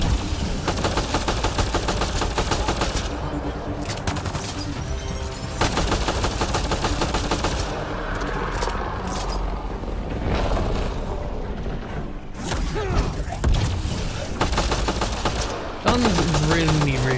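Sustained automatic gunfire rattles through a firefight against dropship reinforcements in Mass Effect: Andromeda, with rapid, loud bursts repeating almost continuously and brief pauses between volleys, while voices speak intermittently over the shooting.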